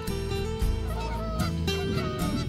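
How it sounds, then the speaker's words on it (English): Canada geese honk repeatedly in overlapping nasal calls, fairly close and clear, with a flock's calls layered over one another. "Canada geese"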